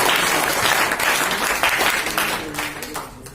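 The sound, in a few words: audience applause at a seminar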